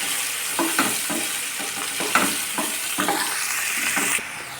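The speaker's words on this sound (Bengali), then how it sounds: "ওই তেলের মধ্যেই ভেন্ডিগুলোকে ভেজে নিব।" Okra frying in hot oil left in the pan after potatoes, a steady sizzle with repeated stirring scrapes and knocks from the utensil, close and loud, with no talking.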